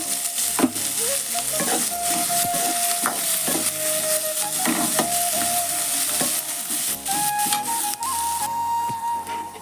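Chalorikai vegetable frying in hot oil in a North Karnataka kitchen: a steady loud sizzle with repeated scraping stirs of a spoon against the pan, and no talking.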